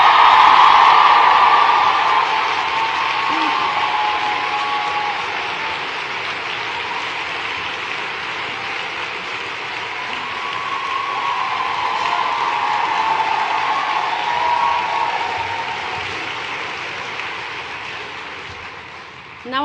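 A large conference audience applauding in a sustained, even roar of clapping that swells slightly midway and fades toward the end, with no voice over it.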